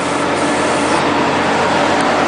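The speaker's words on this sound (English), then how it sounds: "I'm going to drain my other air tank." Compressed air hisses out of a truck's air tank as it is drained during a pre-trip inspection, a loud, steady, close rush of air lasting a couple of seconds with no voices.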